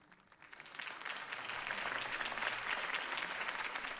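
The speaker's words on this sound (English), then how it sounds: "could have heard that applause" Crowd applause in the video game Batman: The Telltale Series breaks out after a speech, swelling quickly and holding steady, a dense wash of clapping heard at moderate distance.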